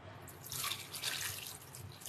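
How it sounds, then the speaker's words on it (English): Hot water pours steadily from a tap onto noodles with a hissing, splashing rush that swells slightly midway; no voices. "Just hot water, soak it for a while."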